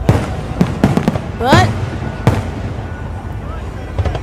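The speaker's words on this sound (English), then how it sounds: "This is my first ever screen recording of a fireworks show." Fireworks show bursting in a screen-recorded display, a series of sharp cracks and pops spaced irregularly with a whistling rise in the middle, fairly close and loud, a single spoken word briefly over them.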